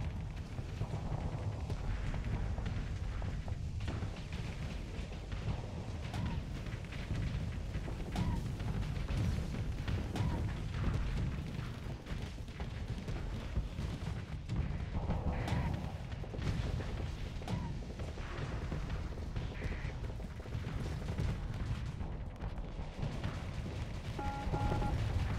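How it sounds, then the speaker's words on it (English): Gungnir cannon in the Starsector space combat game, a dense, continuous barrage of heavy firing and explosions running the whole time with little pause, no speech. "The Gungnir. Oh, that's a pretty nice cannon."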